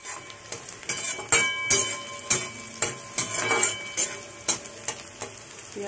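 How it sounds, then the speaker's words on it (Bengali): Onions sizzle in hot oil with cumin seeds in a kadai while they are stirred; steady frying hiss with sharp, repeated scraping clicks from the spoon, close up, and no voices. "পেঁয়াজটা একটু ভাজা ভাজা করব।"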